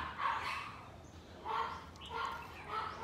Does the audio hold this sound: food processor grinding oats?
no